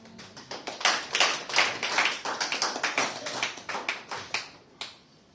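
Applause breaks out among a congregation at a French-language sermon on prayer, a dense, lively round of clapping up close that swells and then tapers off.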